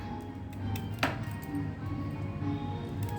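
A knife chops through the ends of a sweet potato in a home kitchen, a single sharp cut standing out amid quiet background hum and faint clatter.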